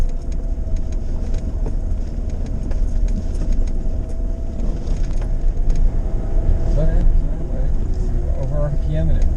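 A Jeep in four-wheel drive grinds up a rough Nevada hill, its engine droning low and steady with rattles and bumps throughout, while people talk over it.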